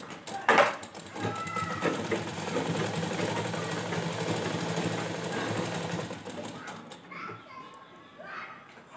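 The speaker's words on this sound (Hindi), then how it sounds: "इसके धागे को अंदर की तरफ करते जाना है और फिर सिलाई करते जाना है" A sewing machine stitches piping onto a Gujarati Rabari ghaghra belt, running in one steady, buzzing burst of several seconds before stopping, with a brief knock at the start and faint background voices.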